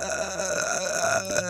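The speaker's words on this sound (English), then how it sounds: "You sat here this entire cast just farting and burping constantly." A loud, close burp into a podcast microphone, one drawn-out belch lasting over a second with a rough, gurgling tail, heard alone without talk.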